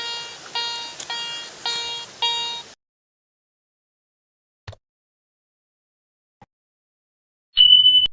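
A Garrett ACE 300i metal detector emits rapid electronic beeps in four quick bursts, then silence broken by faint clicks, ending with a louder steady tone.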